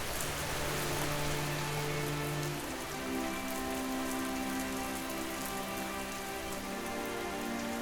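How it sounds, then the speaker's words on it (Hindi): Heavy rain pours steadily, a dense hiss of drops hitting surfaces, constant and fairly close with no voices. "भयंकर बारिश शुरू हो गई"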